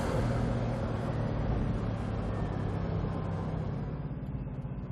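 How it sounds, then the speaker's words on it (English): Bugatti Veyron Grand Sport Vitesse accelerating under a light touch of throttle, a steady loud low rumble of engine and road noise sustained throughout, easing slightly toward the end. "All you have to do is just touch the throttle."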